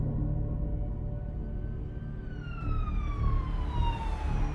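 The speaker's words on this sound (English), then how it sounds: "hard Carter of the Lynette Police Department sped down Charlotte's residential street with his lights flashing and siren blaring" Police car siren with a wailing tone that sweeps downward, loud and continuous over a rumbling engine and road noise, with no talking.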